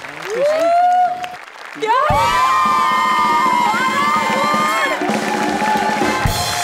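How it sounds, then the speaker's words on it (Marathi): A studio audience at the Marathi comedy show Maharashtrachi Hasyajatra breaks into loud, sustained applause with cheers and whoops, while people shout excitedly over the clapping throughout. "जोरदार टाळ्या."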